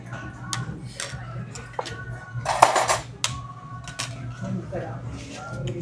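Plastic or metal spoons and forks are handed out at a Toronto street-food stop, making light clinks and rattles in a few separate bursts. People chat over them throughout.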